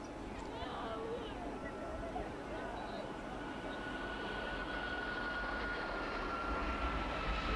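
An airliner rolls down runway 27 at East Midlands Airport on takeoff, a broad, steady engine roar growing slightly with a faint whining tone, heard from a distance beneath a commentator talking.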